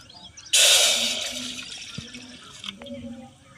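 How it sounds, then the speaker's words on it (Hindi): Water poured from above into a cooking pot on a stove for sugar syrup: a loud, close gushing splash starts abruptly, runs about two seconds and tapers off into quiet kitchen sounds. "चूल्हे पर बैठा देंगे एक भगोना, डाल देंगे हम पानी"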